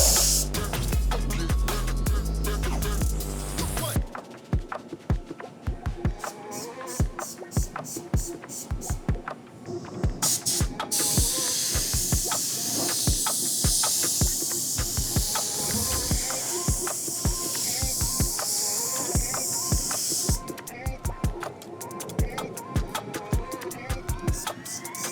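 Spray paint hisses in long steady bursts over Jeep Cherokee XJ Notch X Max fender flares, with rattling can clicks and handling knocks between passes, close to the mic.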